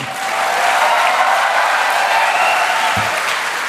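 An audience at an HCL grant ceremony on campus gives Saurav Ganguly a sustained, loud round of applause, a dense, steady wash of many hands clapping throughout without a break.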